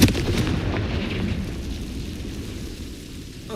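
Confringo blasting spell bursting in Hogwarts Legacy: a sudden booming blast at the start, then a rumbling decay that fades over a few seconds.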